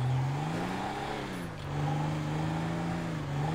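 A motorcycle engine in GTA 5 drones and revs steadily, with a low growling tone that dips briefly and then climbs again, loud and continuous with no talking.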